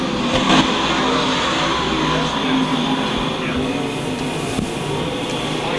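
Dirt track race cars run under green flag racing at Lakeside Speedway in a USMTS event, and their engines make a loud, continuous roar with rising and falling revs, heard from the stands.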